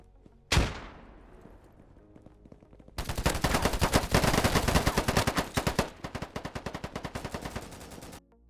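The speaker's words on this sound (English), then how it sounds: "gunfire is clear depending on how close you are" Gunfire in the multiplayer shooter Polygon: a single loud close shot rings out, then a sustained burst of rapid automatic fire, followed by a slower string of distinct repeated shots.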